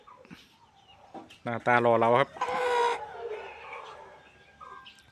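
A young Burmese fighting rooster lets out a loud, harmonic crowing call in two close bursts, with someone talking nearby before and after.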